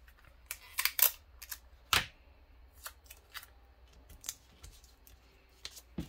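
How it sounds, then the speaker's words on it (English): Small electronic parts for a QCX 50-watt amplifier build being taped down: sharp, close crackles and rips of tape pulled from a roll, with scattered faint ticks and rustles in a quiet room. "so I'm going to tape them down"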